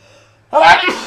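A single sharp sneeze bursts out loud and close after a quiet moment, a short explosive blast with a breathy tail, the kind that comes as one of a string of repeated sneezes.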